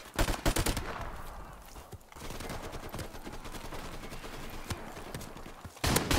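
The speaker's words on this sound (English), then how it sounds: "Shotgunned him and then got killed myself." Shotgun blasts in Modern Warfare gun game mode: several sharp, loud reports in quick bursts at the start and end, with quieter in-game clatter and ambience between them.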